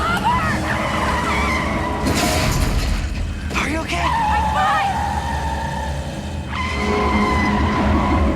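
Cars in a movie chase scene skid with long tire squeals over a constant loud engine roar, punctuated by a crash-like burst; voices exchange a few short lines during the action.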